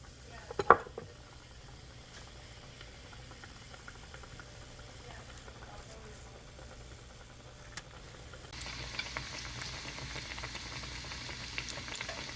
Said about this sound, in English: And then into the oil it goes